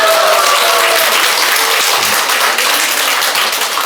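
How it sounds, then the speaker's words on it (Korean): An audience at a lecture in a church or retreat setting breaks into loud, dense applause, a continuous roar of clapping throughout. "저 아줌마를 위해서 박수 한번 쳐줘"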